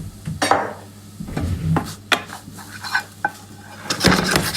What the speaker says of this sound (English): while this is sauteing